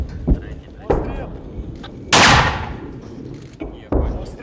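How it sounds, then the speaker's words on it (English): A 60mm mortar fired by troops in the field: a sharp, heavy boom stands out mid-clip among several lesser thumps and bangs, near and loud, with speech faintly present. "They get coordinates for an enemy position and rush to fire a 60mm mortar."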